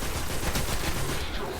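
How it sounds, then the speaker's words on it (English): Gunfire in the video game Destiny, playing as a Hunter, as a gun is emptied: a steady, rapid stream of loud shots, close and continuous, easing slightly at the end. "we're gonna empty out our gun a couple of times here"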